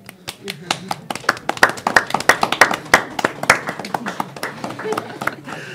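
One person claps for a speaker at a talk on street and online harassment in Lille, giving a run of sharp, close hand claps in an uneven rhythm, with people speaking alongside.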